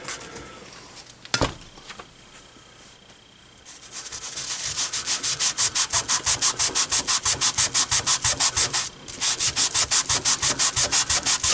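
Scrubbing grime off the chassis of an Airline Montgomery Ward 74BR-1812A radio with a standard cleaner: a few scattered scrapes and knocks, then fast, even back-and-forth rubbing strokes, loud and close, with a short pause before the strokes resume.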